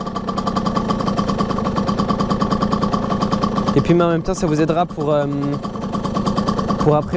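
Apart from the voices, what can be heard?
motorcycle engine idling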